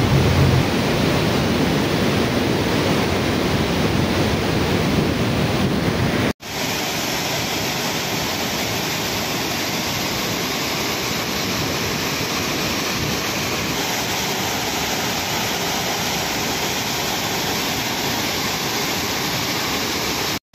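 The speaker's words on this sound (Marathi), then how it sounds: "एकूण 12 वक्रद्वारे विसर्ग सुरू आहे। यामधून पाण्याचा विसर्ग नदीपात्रात सोडण्यात आला आहे।" Water pours through 12 radial gates of the Lower Terna dam at Makani into the river below, a loud, steady roar of rushing discharge that holds throughout, with a brief cut partway and no voices.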